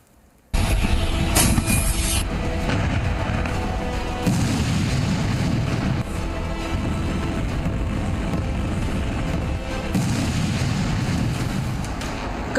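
Heavy explosions and artillery fire in the Russia–Ukraine war, with a sudden loud boom followed by continuous dense rumbling blasts and crackling that barely let up throughout.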